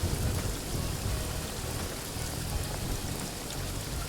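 Steady rain falls in the video game Paradise Killer, a dense, even hiss of drops on surfaces with low rumbling underneath, constant and fairly loud throughout, with no speech.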